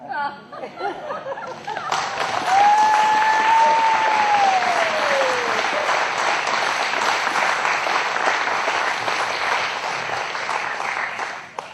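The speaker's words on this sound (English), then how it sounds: "I couldn't have got a better applause if I'd thrown money out there." After a cowboy poem at a Nevada County poetry reading, the audience breaks into warm applause that swells after a short quiet moment and holds steady for several seconds, with a faint whistle rising early on.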